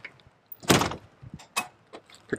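A locked door being tried and handled, a few close knocks and rattles of the door and handle in short bursts with quiet gaps between.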